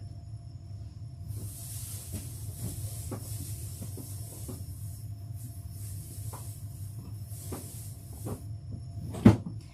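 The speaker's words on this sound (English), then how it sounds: "my drawer was spilling over" An overfull drawer is shoved closed indoors, a sharp loud knock near the end after steady low hum and scattered small clicks and rustles.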